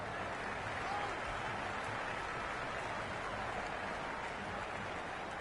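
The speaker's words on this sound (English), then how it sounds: "The crowd are loving every minute of this match." A stadium crowd at an LSG vs RCB match in the cricket video game Cricket 26 gives a continuous, even roar of cheering that holds steady throughout, with commentary faintly underneath.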